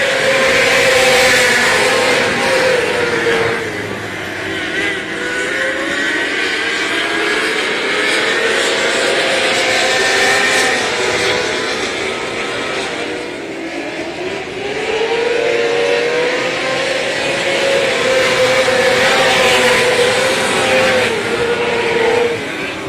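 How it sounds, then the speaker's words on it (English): Micro sprint race cars roar around a dirt track at Texana Raceway Park, a dense, loud pack of screaming engines rising and falling as the field laps continuously. "Green and going here in the micro sprints."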